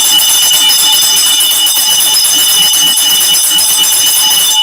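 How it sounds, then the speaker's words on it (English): Fight bell at a ring event ringing continuously and loudly, a steady bright metallic clang sustained throughout with no pauses. "when the bell is ringing, it's fight time"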